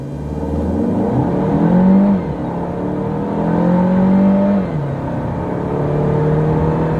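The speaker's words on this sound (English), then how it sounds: "So let's go and listen to the gear changes and the engine." A Jaecoo J7 SUV engine in sport mode revs up strongly, then drops pitch as a gear changes, then climbs and shifts again. The whole run is heard from inside the cabin with no talking.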